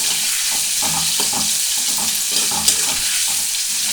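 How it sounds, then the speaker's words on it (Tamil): Onions and drumstick pieces sautéing in oil give a steady close sizzle, with repeated scraping stirs of a spoon in the pan. "வதக்கிடுங்க. ஃபைவ் மினிட்ஸ் வதக்கணும்."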